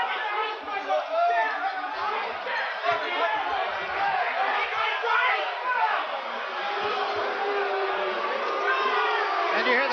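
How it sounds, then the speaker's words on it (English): Arena crowd at a Mike Tyson boxing match, a dense continuous roar of voices with rising jeers and boos, steady and loud throughout with no single voice standing out. "you hear the crowd start to boo"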